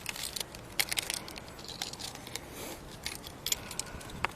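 A bunch of keys jangles and clinks in several quick, close bursts of metallic rattling during a roadside exchange, with faint rustling of clothing in between.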